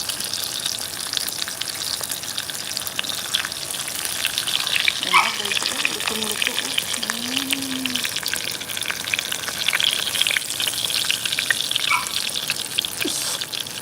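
Dried fish (daing) frying in oil on a house rooftop gives a steady close crackle and sizzle, with brief faint sounds in the background partway through.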